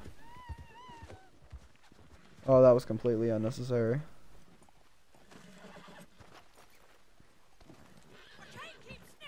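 Horse whinnying loudly in the Red Dead Redemption 2 video game, a single drawn-out neigh near the middle with hoofbeats and game sounds around it, and someone talking before and after.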